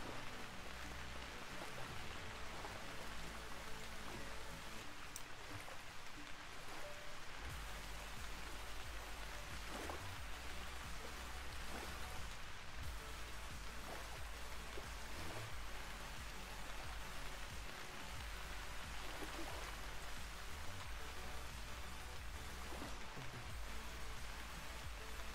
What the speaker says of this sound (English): this rain is really, really, really loud in the trees